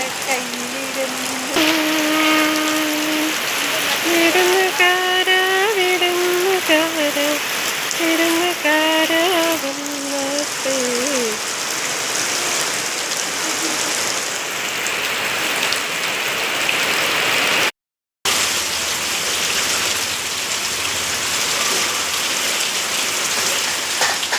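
Heavy rain pours down steadily and loudly in a continuous wash, with a sustained tonal sound, like a voice or a passing engine, over it early on and a short break in the middle.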